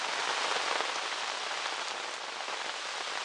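Steady, dense rain pattering on the ground and gear at a carp fishing spot on the Loire at Sully-sur-Loire, a continuous close hiss of drops with no voices.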